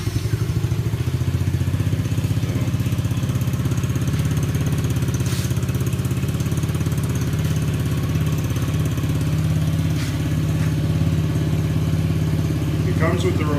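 A Coolster 125cc XR8 small engine running steadily, a loud, continuous low putter and clatter close by, with faint talk underneath.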